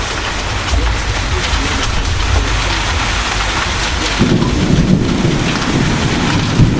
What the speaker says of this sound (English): Yeah, this is an intense storm.